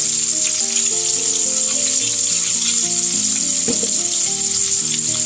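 Pork chops sizzling loudly in a pan, a constant close frying hiss, with faint background music and no talking.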